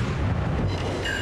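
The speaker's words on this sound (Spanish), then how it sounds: "Voy a probar los nuevos cañones." New destroyer guns firing in World of Warships, heard as a dense, continuous low booming rumble with no clear separate shots, steady and loud throughout.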